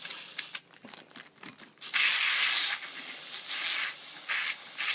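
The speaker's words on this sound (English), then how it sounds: "So you're going to get your oven cleaner, trick it, and then what you're going to do, you're going to spray it like this" Oven cleaner sprays from an aerosol can onto a scooter part in a long steady hissing blast, after several short choppy spurts, loud and close.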